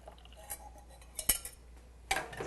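A utensil scrapes and clinks against a bowl as paste is pushed back into a pan, with a few sharp metallic taps and scrapes close up in a quiet kitchen.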